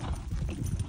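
Horse hooves clip-clop steadily on a ground surface during a countryside horse ride, a continuous close rhythm of soft thuds with no voices over them.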